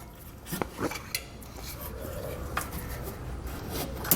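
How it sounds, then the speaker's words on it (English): Metal scraper rubbing and rasping against tape on the underside of a 2022 Mazda CX-5, a few sharp scrapes early on followed by steady close scratching with occasional clicks, no voices. "So I'm just going to use a scraper to get that tape removed"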